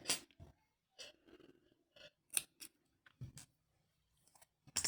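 Scissors snipping crochet yarn after finishing a granny square, a few quiet close crisp snips and small rustles separated by near-silent gaps.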